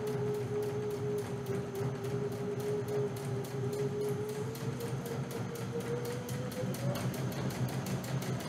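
Continuous close-up chatter of a sewing machine running a seam on a backpack, fast regular needle strikes with a steady motor whine throughout, no pauses or talking.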